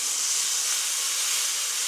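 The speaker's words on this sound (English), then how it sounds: "first things first, I will get all my meat browned off, guys. Okay, my pan is smoking." Eighty-twenty beef mince browns in a smoking-hot pan without added fat, giving off a steady, close, bright hiss like rushing steam that holds evenly without pause and with no talk.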